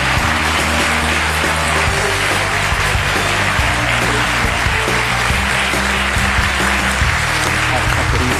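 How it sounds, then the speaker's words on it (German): A German television cooking-show studio audience applauds loudly and continuously, dense clapping filling the room for several seconds. "Klatschen Sie ruhig weiter."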